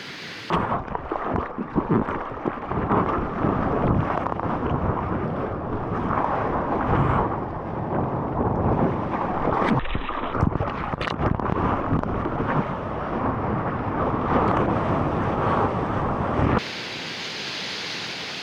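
A large ocean wave breaks and roars during surfing, a loud sustained crash of surf mixed with heavy wind buffeting the microphone, continuous for most of the clip before dropping off abruptly near the end.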